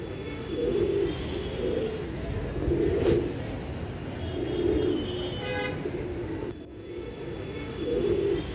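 Bajre pigeons coo in soft, low, repeated throaty phrases close by, pulsing every couple of seconds over a steady background hum.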